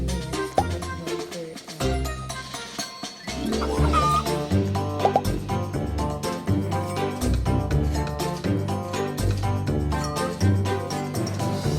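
Chickens in a chicken farm video game cluck repeatedly, a busy layered chorus of clucks and squawks over a steady background tune, fairly loud and continuous throughout.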